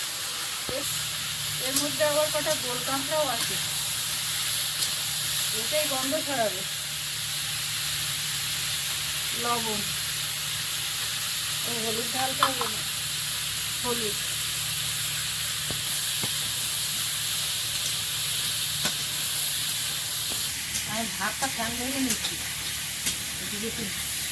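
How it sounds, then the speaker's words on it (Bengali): Plantain and potato with panch phoron, ginger paste and oil fry in a kadai, a steady hiss and sizzle running throughout, close and even, while someone talks intermittently over it. "কড়াই বসিয়ে দিই একটু পাঁচ ফোড়ন তেল একটু আদা বাটা এবারে কলা আলু দেবো"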